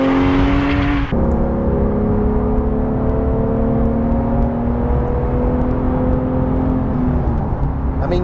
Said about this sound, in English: it is one of the most glorious Porsche engines ever created.